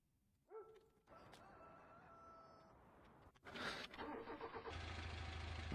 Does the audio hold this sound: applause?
no